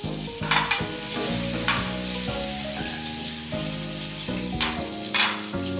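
Sliced chilies sizzling in a hot pan for pasta with bottarga, a strong steady fry close by, broken by a few sharp stirring clatters and bursts of spitting oil, no talk.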